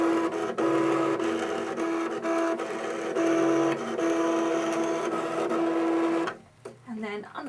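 A Cricut machine cuts card pieces for a Christmas tree card, giving a steady mechanical whir with a recurring motor tone and periodic clicks, close by, continuous until a quieter stretch at the end.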